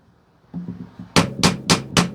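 Light hammer taps on a metal blade: a few soft ticks, then four sharper, evenly spaced strikes ringing close and clear.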